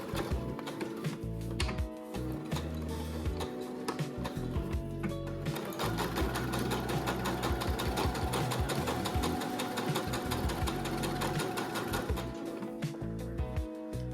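Sewing machine stitching through thick denim for a tailored suit set, a fast continuous mechanical whirring and needle chatter that runs steadily, pausing and restarting briefly, close and loud, no talk.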